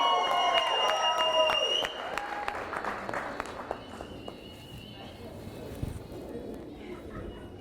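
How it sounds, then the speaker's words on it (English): Wedding guests at a ceremony in Houston applauding the couple, brisk clapping with distinct individual claps over music and chatter, fading gradually as the noise of the room continues. "Come on guys, give them very big hand."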